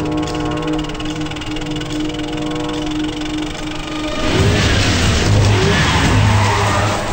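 A car driven fast, its engine droning steadily before a sudden rush of louder road and tire noise with squealing tones, close and continuous.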